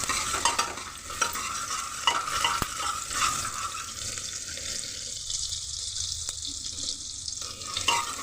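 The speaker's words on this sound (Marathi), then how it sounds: "आपल्याला कांदा थोडा लालसर होईपर्यंत परतून घ्यायचा आहे।" Chopped onion sautéing in a pan for Satara-style spicy mutton curry, a steady close sizzle with repeated scraping stirs throughout, no talking.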